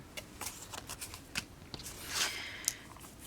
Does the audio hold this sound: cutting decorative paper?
yes